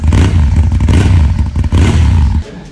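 Ducati Monster 821 middleweight roadster with its V-twin engine and standard exhaust, a loud, close, deep throbbing roar with rough clattering texture that cuts off abruptly near the end.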